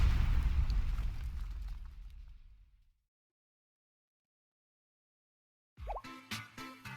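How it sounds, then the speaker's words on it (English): An explosion in the Blue Archive video game rumbles loud and low, then fades away over about three seconds into silence, after which game music comes in. "was that an explosion?"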